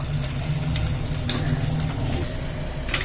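A pan of green peas gravy, just taken off the heat, bubbles and sizzles softly and steadily, with faint pan clinks.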